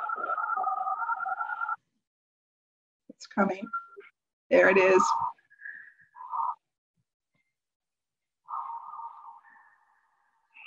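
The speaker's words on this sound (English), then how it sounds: "That is my dial-up modem." A home dial-up modem connects to the internet with a steady tonal whine, then a gap and a burst of harsh, noisy handshake screeches and chirps, ending in short beeping tones. A person speaks briefly between the sounds.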